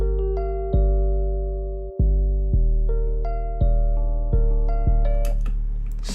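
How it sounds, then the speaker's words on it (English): An FL Studio 808 bass pattern plays deep, booming notes that start sharply and slowly decay, shifting pitch from hit to hit in a sparse groove, with no voices. "So now we have our 808 pattern done."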